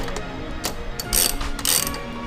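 A hand ratchet clicks close by while tightening car battery terminals on a V8-swapped Nissan 240SX, with short clicking strokes and two louder, quicker bursts of rapid ratcheting.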